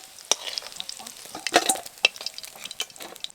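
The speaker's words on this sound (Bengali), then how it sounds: "মাছগুলো ভাজা হয়ে গেছে" Live pond snakehead fish frying in oil in a village kitchen, a soft continuous sizzle broken by sharp spatula scrapes and clinks against the pan, close and moderately loud.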